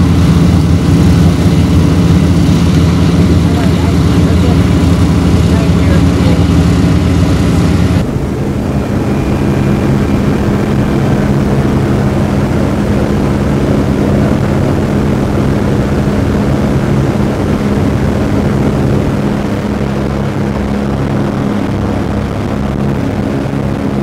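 Inside a B-17 bomber during takeoff, the propeller engines roar loudly and continuously, a heavy throbbing drone that drops in intensity partway through as the aircraft climbs, with no talking.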